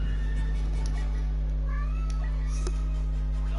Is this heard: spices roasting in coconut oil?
no